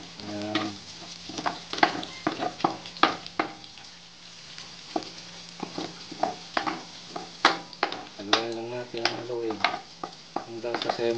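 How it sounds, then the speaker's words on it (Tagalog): Chopped garlic frying in a pan and being stirred, a steady low sizzle broken by repeated scraping and clinking of a utensil against the pan, with a voice talking in between. "Halunin lang natin. Hintayin natin mag-brown ang kulay ng ating bawang."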